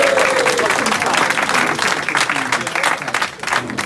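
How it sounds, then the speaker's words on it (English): An audience at a mental health and suicide awareness performance gives a loud, continuous round of applause, dense clapping filling the room for about four seconds with faint crowd noise. "Can we give her a round of applause?"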